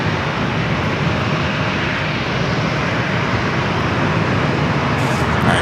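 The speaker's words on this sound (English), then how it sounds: "All right, Breeze, Airbus A220-300." Breeze Airways Airbus A220-300 airliner at San Diego airport, a steady loud jet engine roar that holds constant and close throughout, with no talk over it.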